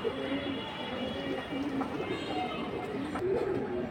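Pigeons of silver and flying breeds coo in a continuous low murmur, with several birds calling over one another at close range amid steady background noise.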